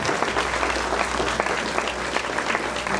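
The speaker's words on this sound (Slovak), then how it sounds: "veľký potlesk!" Dense, sustained audience applause at a civic ceremony in Hurbanovo, honouring the deputy mayor, from a 2019 city television broadcast; steady, loud clapping from a large crowd throughout, with no pause.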